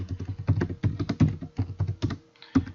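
Close-up typing on a computer keyboard while writing an email, a quick irregular run of clicky keystrokes in short bursts with a brief pause near the end.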